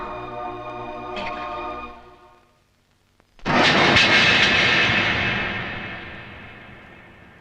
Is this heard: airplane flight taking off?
yes